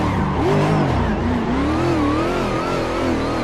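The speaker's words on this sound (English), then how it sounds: "So here we go, clutch kick, brake, back on the gas, and brake, back on the gas." Drift car in Assetto Corsa, its engine revving up and down continuously with rising and falling pitch, tyres squealing underneath, loud and sustained.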